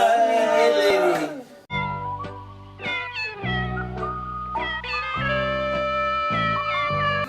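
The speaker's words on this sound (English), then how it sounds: "The cat's singing like this." A house cat lets out a drawn-out, wavering meow that trails off, followed by several bright sustained tones, with background chatter and noise throughout.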